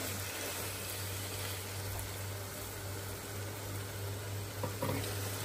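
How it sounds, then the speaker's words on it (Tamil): Sri Lankan Jaffna-style clam curry sizzles steadily in a pot as coconut milk goes in, a continuous frying hiss with a low hum underneath and a couple of small clinks near the end, no voices. "நாங்கள் இதோட முதல் பால் சேர்த்துக்க போகிறோம்."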